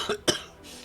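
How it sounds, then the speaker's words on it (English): A single sharp cough, close and fairly loud, with a softer catch of breath just before it, then quiet. "Sorry for the cough"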